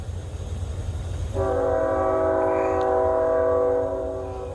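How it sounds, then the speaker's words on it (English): A train horn blares in a long, steady multi-tone blast over low rumbling rail noise, starting partway through and holding loud to the end. "At least we got the train."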